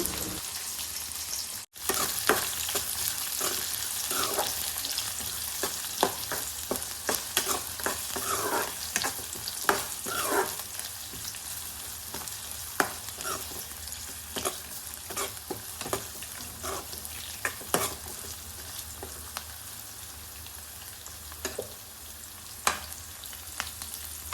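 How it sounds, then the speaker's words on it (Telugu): Chopped onions frying in a pan with dried red chillies for a gongura chilli pickle, a steady loud sizzle broken by frequent spatula scrapes and stirring clicks, close up and with no talking. "ముందుగా కట్ చేసి పెట్టుకున్న ఆనియన్స్ను యాడ్ చేసుకొని ఫ్రై చేసుకోవాలి"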